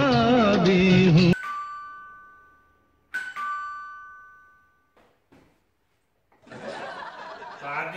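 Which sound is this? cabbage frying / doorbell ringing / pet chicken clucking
doorbell ringing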